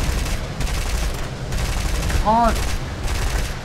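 Aircraft guns firing short bursts in War Thunder, a Blenheim in flight, with rapid gunfire crackling amid constant engine roar and a brief whining tone; a voice briefly speaks over it.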